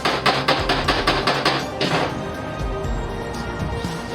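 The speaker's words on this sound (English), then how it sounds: "You have to hit it a little bit, hit it with the hammer." Repeated hammer blows on a car power steering pump, about eight sharp metallic strikes in a steady rhythm over the first two seconds, then quieter workshop clatter and knocking.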